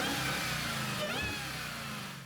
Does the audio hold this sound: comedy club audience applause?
no